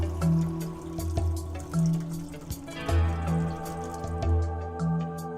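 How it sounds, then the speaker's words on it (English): Cleaning agent is poured into the clean water tank of a Scrubmaster B90 CL floor scrubber, making irregular close drips and splashy glugs, hollow liquid plops in a plastic tank that come in uneven bursts. "Correctly measure the required quantity of cleaning agent and pour it into the clean water tank."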